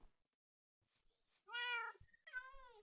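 A tamed cat in the Minecraft video game meows twice, two clear rising-and-falling calls close together, preceded by a few faint clicks and with no talk over them.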